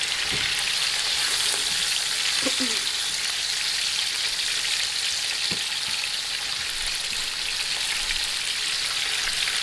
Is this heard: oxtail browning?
yes